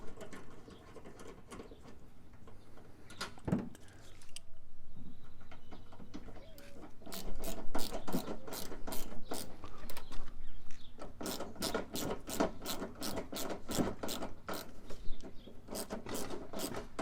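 A ratchet tightens the last screw on a plastic headlight housing of a Dodge RAM 1500, first some scraping and handling, then quick, evenly spaced clicking runs with brief pauses, close and moderately loud.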